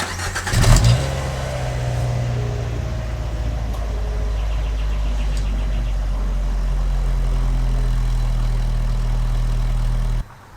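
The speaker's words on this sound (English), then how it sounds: "we're gonna actually measure the cold start volume that this car is gonna make" A car with a Magnaflow exhaust cold-starts with a sharp burst, then settles into a loud, steady, deep exhaust rumble that holds until it cuts off, heard from about 4 feet.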